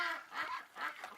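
Cartoon ducks in a Jackbox party video game quack in three honking bursts in quick succession, fairly faint and with no talking over them.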